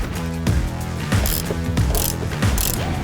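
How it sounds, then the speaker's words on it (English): A Torx 50 driver on a ratchet loosens the lower seat belt bolt in a 2003-2007 Ford F-250 crew cab, giving a close, loud series of rapid ratcheting clicks in several bursts, with no talking. "I'm just going to use a Torx 50 and loosen this up"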